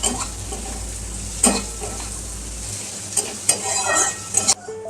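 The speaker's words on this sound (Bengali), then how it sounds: "এই তেলের মধ্যে আমি এবার কুচানো পেঁয়াজ দিয়ে দিচ্ছি" Chopped onions sizzle in hot oil with a bright, steady crackle, broken by a few clinks and scrapes of a spoon against the pan.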